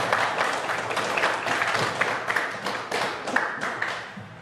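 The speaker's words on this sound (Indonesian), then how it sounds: "Beri aplaus untuk teman saya." Classroom applause from students clapping for a classmate, a dense, steady patter of many hands at close range that gradually tapers off toward the end.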